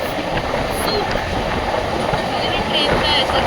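A train rolls along steadily as seen from an open carriage doorway on a Konkan trip, with continuous rumbling wheel noise and rushing wind throughout, loud and close.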